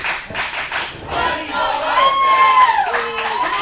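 A live wrestling crowd roars and shouts around the ring, cheers swelling and surging in waves with some clapping and shrill yells mixed in.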